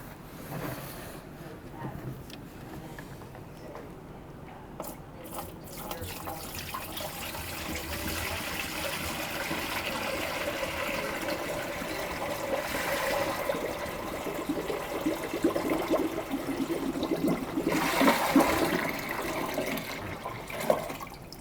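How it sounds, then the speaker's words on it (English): Cold water dumps into both hoppers of an SL 500 gravity model machine being cleaned, a soft splashing pour that swells into a louder rushing gush toward the end. "So take our cold water and dump it in both sides."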